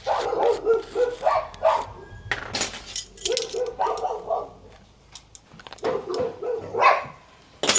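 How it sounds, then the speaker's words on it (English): Several dogs bark in loud repeated bursts at a passing truck outside during a home cooking and smoking session, the barking coming in clusters with brief pauses between them. "We had a truck driving past, so the dogs are barking."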